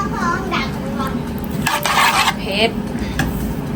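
Larb, an Isan minced meat salad, stirred quickly in a pan, with rapid scraping and clinking of a utensil against metal under steady background noise and a voice speaking briefly.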